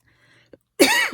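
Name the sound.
person coughing from embossing powder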